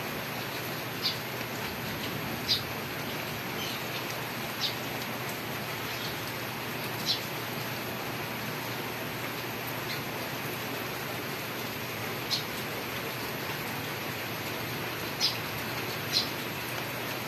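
Rain falls steadily on a Christmas day, a dense, even hiss that fills the whole stretch, with a few faint drips ticking out above it now and then.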